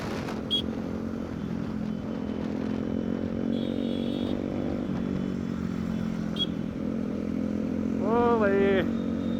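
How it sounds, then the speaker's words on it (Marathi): Motorcycles fitted with direct exhausts, including a 390 and NS 200 and RS bikes, rumble steadily nearby during a rural road group ride, with a few sharp pops and a rising rev near the end. "भयानक फायरिंग देत आहे गाड्या. डायरेक्ट एक्झॉस्ट लावले त्यांनी."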